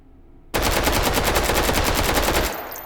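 Rapid automatic gunfire from a rifle fitted with a TFU32 conversion kit, a dense, loud burst of evenly spaced shots lasting about two seconds after a brief quiet start, then tailing off.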